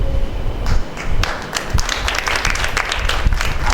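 Audience applause at a motivational lecture session held as a Guinness World Records attempt, a dense, steady patter of many hands clapping close by for the whole stretch, with no talk over it.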